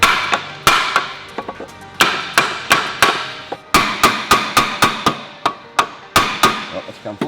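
A soft hammer taps a supercharger snout loose from the engine of a VL Commodore drag car, delivering about twenty sharp, close knocks in uneven clusters, some in quick runs, with no voices.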